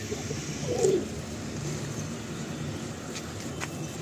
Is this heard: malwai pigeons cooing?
yes